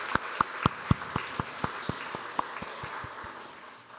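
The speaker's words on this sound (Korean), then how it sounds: "우리 찬양 받으신 하나님께 영광의 박수로, 그리고 우리 찬양대에게는 감사의 박수로 같이 한 박수하겠습니다" Rhythmic unison clapping from a church congregation for a small choir during a Sunday worship service, steady beats roughly four per second that slow and fade out by the end.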